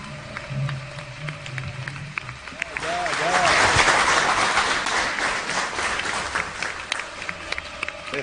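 Applause from an audience in the Salón Néstor Kirchner hall, sustained clapping that swells to a dense peak near the middle and then holds steady, with faint voices over the start.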